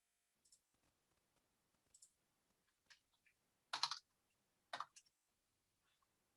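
Quiet, sparse keyboard typing: short bursts of keystrokes separated by pauses, with one louder cluster of clicks midway.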